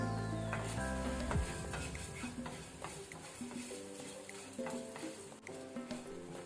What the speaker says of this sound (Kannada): ಹೀಗೆ ಇದನ್ನು ಮೂರನ್ನು ಒಟ್ಟಿಗೆ ಹುರಿಯುವ ಲೋ ಫ್ಲೇಮಲ್ಲಿ. ಅದರ ಜೊತೆನೆ ಕರಿ ಲೀವ್ಸ್ ಸಹ ಹಾಕೊಳ್ಳಿ